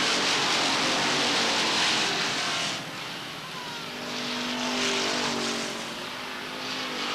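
Stock cars racing at Beech Ridge Motor Speedway in 1993, a loud sustained roar of engines swelling and fading as the pack passes, with faint voices beneath.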